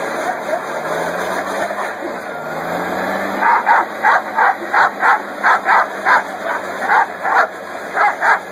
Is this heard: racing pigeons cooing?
no